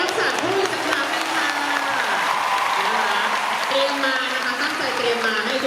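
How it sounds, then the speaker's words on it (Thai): Audience applause at a fan meeting event, sustained clapping from a crowd that runs evenly throughout, with a voice speaking over it. "ทุกท่านปรบมือ"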